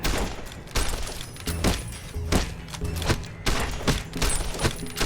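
Gunfire in Fallout: New Vegas, a rapid string of close, punchy shots and thuds in uneven bursts across a few seconds, loud and dense with no talking over it.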